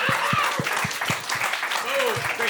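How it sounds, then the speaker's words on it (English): Audience applause at a New York roast battle comedy show, a steady wash of clapping mixed with voices and whoops from the crowd throughout. "Okay, clap it up."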